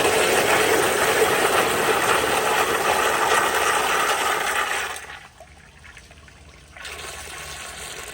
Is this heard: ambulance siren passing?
no